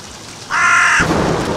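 A single loud, harsh crow caw from the horror video game Shutter chapter 2, lasting about half a second over a low rumbling ambience that swells right after it.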